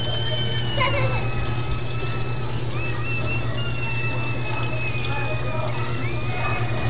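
Water gushes steadily into a top-load washing machine drum, set to its lowest water level, under a constant low mechanical hum, with faint tonal whines drifting over it.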